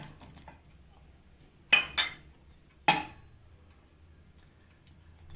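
Sliced yellow bell peppers drop into a pan for white sauce pasta. Two or three sharp metallic clinks and clatters of a utensil against the pan ring out in an otherwise quiet kitchen.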